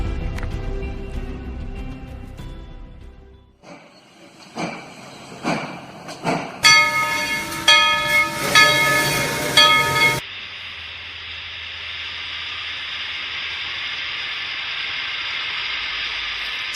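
A train pulls into a small station: rumbling and clanking give way to bright, whistle-like screeches of braking, then a long steady hiss of released steam or air as it stands. No voices.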